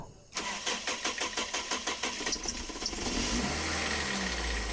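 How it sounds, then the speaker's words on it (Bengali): A Toyota Hiace's 2000cc VVT-i petrol engine cranks with a rapid rhythmic starter whir, then catches and settles into a steady, smooth idle, recorded close up. "দেখেন আমরা গাড়িটা স্টার্ট করবো"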